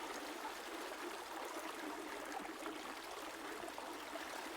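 A flowing river stream, a steady broad rushing and trickling of water, even and unbroken throughout, moderately quiet with no voices.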